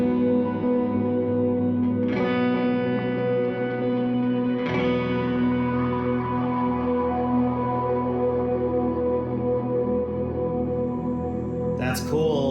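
A Hologram Electronics Microcosm pedal washes sustained tones in reverb, with chord-like attacks swelling into long, layered, echoing tails that hang and blend, plus a sharp bright burst near the end.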